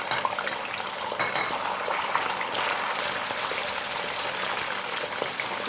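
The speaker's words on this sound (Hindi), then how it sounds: "अब इसमें मैं चिकन ऐड करने लगी हूँ। इस चिकन को ऐड करके हमें इसमें फ्राई करना है।" Chicken fries in a hot karahi over low flame, a dense, steady, loud hissing sizzle like heavy rain that holds evenly throughout.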